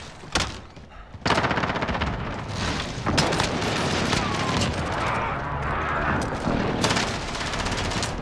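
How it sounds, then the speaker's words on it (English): Precision airstrike in Call of Duty: Modern Warfare multiplayer: a loud sustained barrage of rapid booming blasts and gunfire that rolls on for several seconds after a brief lull, dense and close with no voices. "Enemy precision airstrike."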